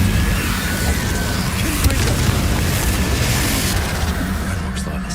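An Incendio fire spell cast in a Hogwarts Legacy fight, heard as a continuous loud, rumbling fiery roar with scattered booms and crackles, steady from start to finish.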